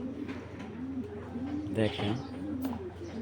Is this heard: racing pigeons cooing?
yes